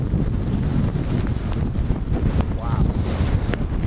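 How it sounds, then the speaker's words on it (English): Gusty wind buffets the microphone during an afternoon snowstorm at Kirkwood ski resort, giving a loud, broadband rushing roar that holds steady throughout the few seconds. "Wind's coming down now."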